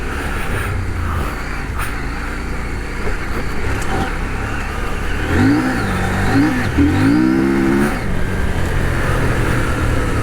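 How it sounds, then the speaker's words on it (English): A CF Moto 800MT touring motorcycle is ridden off-road, its engine rising and falling in pitch as the throttle opens midway. Steady rumble and wind noise sit underneath, with no talking. "Motor is really good off-road."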